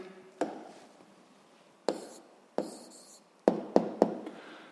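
Pen strokes writing down the answer to a physics problem, heard as a few sharp taps and short scratchy marks spaced apart, with quiet pauses between them.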